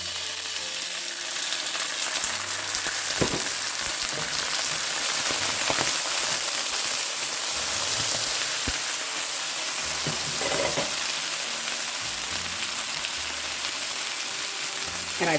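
Pear slices sizzle in a pan with apple cider vinegar, giving a loud, steady frying hiss with occasional crackles and pops. Nobody talks over it.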